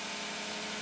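A car engine idles while throttle body cleaner is sprayed into it, giving a steady mid-pitched hum with a faint uneven vibration, close and continuous across a very short moment with no talk.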